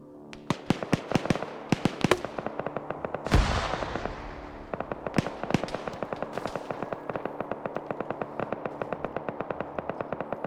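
Video game gunfire crackling in rapid sharp bursts, single shots then sustained rattling volleys, with one heavier blast partway through; loud and close with no talk over it.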